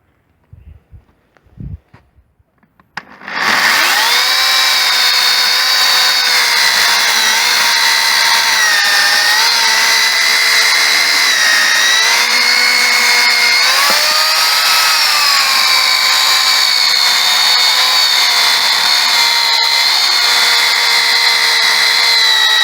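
Electric chainsaws cutting wood on metal sawhorses, a loud continuous motor whine that kicks in after a few quiet knocks and runs steadily, its pitch dipping and rising as the chain bites.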